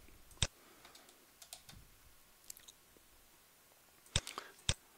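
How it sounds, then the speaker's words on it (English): Sparse clicks of typing on a computer keyboard, a few isolated keystrokes spaced out with quiet gaps between them, close and fairly soft. "We can type something here."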